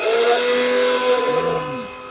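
Electric blender, brand new and just unboxed, running at a second-hand ship-goods electronics shop in Bhatiary: a steady whining motor drone with a shifting pitch that dips near the end, continuous throughout.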